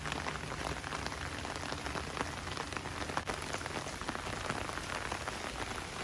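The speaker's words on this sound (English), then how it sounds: "Walking under the rain is one of the best things I know." Steady rain falls on the ground of an Oslo street on a spring day, a dense, continuous patter of drops heard up close while someone walks, with no voices.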